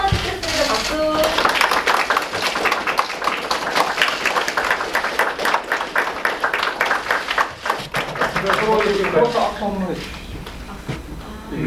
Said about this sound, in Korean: 박수 한번 듣겠습니다. 박수.